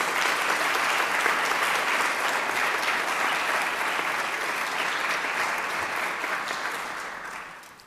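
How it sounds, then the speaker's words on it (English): An audience applauds a presentation at a university capital campaign launch, sustained full clapping that holds steady for several seconds, then tapers off toward the end. "Let's offer another round of applause for everyone who participated in that wonderful presentation"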